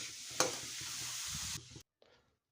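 A spiced pea fry is stirred in a pan, with a close sizzle and scraping strokes. It stops abruptly partway through, leaving a brief faint rustle and then silence.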